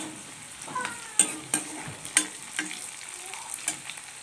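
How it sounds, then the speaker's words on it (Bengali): Onions frying in oil give a faint sizzle under a series of sharp spoon-stirring scrapes and knocks against the pan, close by and fairly quiet. "আমার পেঁয়াজটা ভাজা হয়ে গেছে তেলে"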